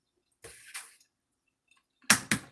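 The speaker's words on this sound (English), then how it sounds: "when you're cracking your eggs, go crack it on the side of a bowl" Eggs cracked against the side of a bowl in a home kitchen while making breakfast, two pairs of sharp, close cracks separated by a pause of silence.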